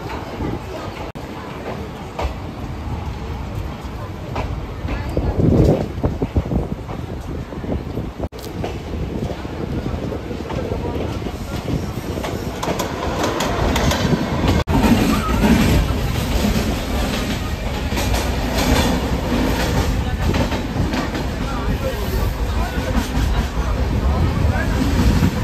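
A train pulling out of Bolpur station, heard from inside a carriage: a continuous rumble and rail clatter build slightly over time, with wind buffeting and voices nearby.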